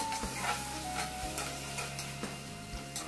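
A spoon scrapes and stirs chicken pulao masala with fresh mint in a pan, soft rhythmic strokes over a low, steady sizzle, near and fairly quiet.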